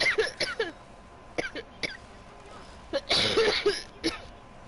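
Several short, sharp coughs and throat-clearing bursts come in uneven clusters, close and fairly loud, from someone who has just choked while friends play ARK Survival Evolved.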